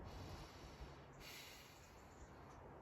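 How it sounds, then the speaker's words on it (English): A heavy exhaled breath, pushed out with a lot of air during expressive breathwork, sounds as a faint, airy rush of breathing heard alone. "even a heavy breath that's really got a lot of air coming out"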